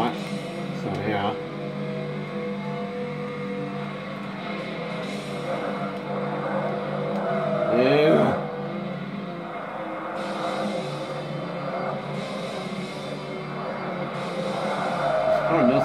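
A Dodge Viper races in the video game Forza, its engine whining and shifting up and down with tire squeals, while someone talks over it throughout.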